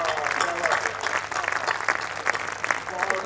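An audience at a Hindi poetry recital breaks into sustained applause, a dense wash of many hands clapping throughout, with voices faintly mixed in.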